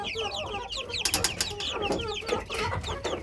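A flock of hens clucks and chatters busily up close, with a rooster's calls mixed in and scratching, pecking noises throughout.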